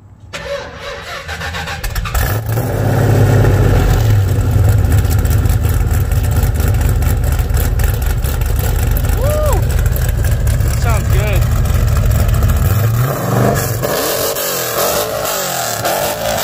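A 1972 Dodge Challenger fires up and runs extremely loud, a deep rumbling engine roar that swells after a quiet start and holds steady with revs, close to the listener, with voices talking underneath.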